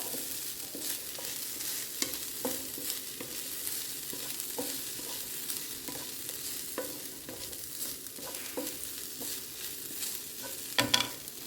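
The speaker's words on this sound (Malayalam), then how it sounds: "എന്നിട്ട് ലേശം കറിവേപ്പിലും കൂടി ഞാൻ ഇതിനകത്തേക്ക് ഇടുവേ അപ്പോൾ ഇത്രയും ഇട്ടിട്ട് ഞാനിതിനെ ഒന്ന് മൂപ്പിക്കാം" Curry leaves and spices frying in a pan for Kannur-style roasted-coconut sambar, a steady close hiss of sizzling oil with soft spoon stirring scrapes throughout and a few louder clinks near the end.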